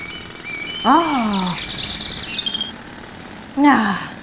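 Birds call outdoors in a few loud, sweeping chirps and whistles, one burst early and another near the end, with fainter high tweets between them over a quiet background.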